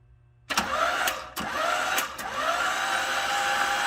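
An engine on a long-idle 1979 Datsun 280ZX cranks in bursts after a quiet start, with a few sharp clicks and a whirring starter that keeps churning without catching, close and fairly loud.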